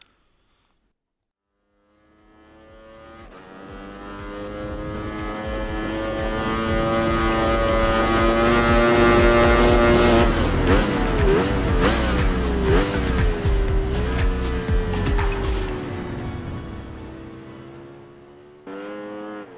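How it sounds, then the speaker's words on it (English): Racing motorcycle engine in the MotoGP 25 video game, a rising high-pitched whine that builds from silence to a loud sustained scream, shifting pitch through gear changes before fading near the end. "So there you can just see the tyre compressed on the back of Jack Miller's bike there"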